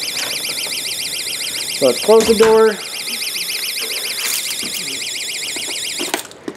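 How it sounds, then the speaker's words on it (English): A homemade key-reminder door alarm beeps in a fast, shrill warbling pattern, loud and continuous, while a person speaks briefly and a door clunks shut before the tone cuts off near the end. "We're just going to open the door, the alarm will sound, and then I will plug my key into it."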